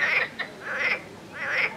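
A frog croaking by an urban stream in May, inflating its two cheek-like vocal sacs: three loud, rasping bursts in an even rhythm, close and clear with no talking.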